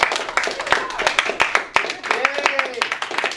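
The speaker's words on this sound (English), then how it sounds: "Give yourselves a round of applause." A school class claps for themselves, a crowd of distinct, uneven hand claps that pop in a loose rhythm and spread across the room, with voices mixed in.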